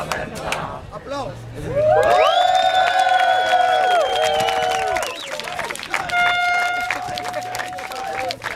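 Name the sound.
audience applause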